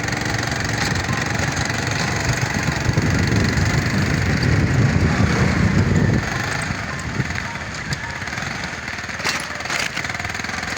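A motorcycle engine runs close and loud, a steady rough knocking drone that thickens for several seconds and then eases to a lower idle, with voices talking over it.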